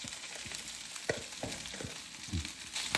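Rice is mixed and fried in hot oil, a soft, quiet sizzle with several scraping stirs and light knocks of a spoon against the pan.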